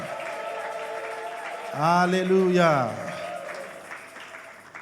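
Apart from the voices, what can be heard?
congregation applauding and cheering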